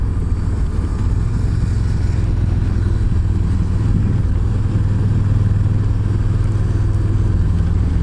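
A 2018 Yamaha Venture motorcycle cruises in sixth gear at about 2,300 RPM, its engine a steady, loud low drone blended with road and wind rush, with no talking.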